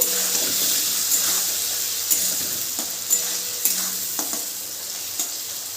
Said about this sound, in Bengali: মটর ডালটা দিয়েও একটু নেড়ে নেব